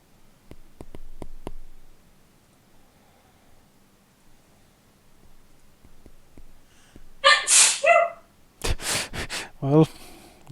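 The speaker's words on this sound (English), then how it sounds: "The loudest sneeze in the northern hemisphere." Someone gives a sharp, loud sneeze late in the clip, with quieter sniffs and clicks before it and brief noisy bursts after, set against a near-silent room.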